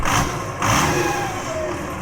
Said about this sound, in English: Engine has not run in a long time.